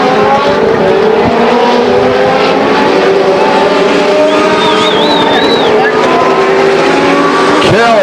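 Legends race cars lapping Stockton 99 Speedway under a yellow flag after a crash, engines droning loud and steady throughout with shifting pitch as cars pass, while an announcer talks over the track noise.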